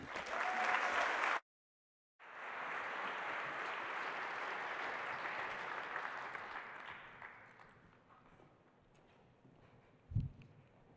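An audience gives steady, dense applause to welcome a spoken word performer at an MIT launch event, loud at first and then slowly fading over several seconds, with a single thump near the end.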